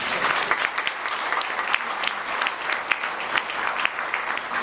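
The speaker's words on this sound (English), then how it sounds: "If you say yes, please clap." A hall audience at a health talk claps together in a steady, dense round of applause, close and lively, sustained without a pause and with no speech over it.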